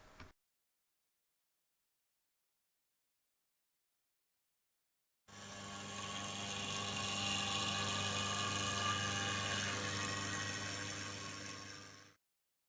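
A CNC machine makes its final finishing passes on a motor mount, giving a steady broadband machining whir with a low hum that starts abruptly after several seconds of silence, holds for about seven seconds, then cuts off.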